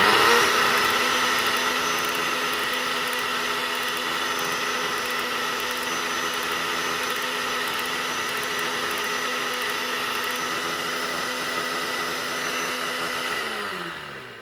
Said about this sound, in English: we're going to run it, because this is how you clean a blender